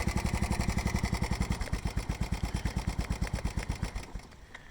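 A Yamaha Big Bear 350 ATV engine runs on full choke with a steady, fast putter of regular firing pulses, loud and close, and it stays uneven toward the end.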